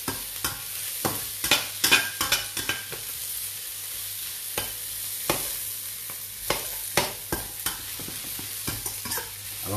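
Vegetables fried in a wok for phad thai are stirred with repeated quick scraping strokes over a steady low sizzle, close and moderately quiet, with irregular clusters of clanks.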